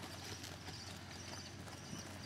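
Horses trotting in a riding arena, a continuous rhythmic clip-clop of hooves at a moderate distance, fairly faint and steady with no talk.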